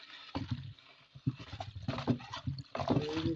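Homemade antiseptic liquid like Dettol is stirred in a container, giving uneven sloshing, knocking strokes that come close and fairly loud in irregular bursts.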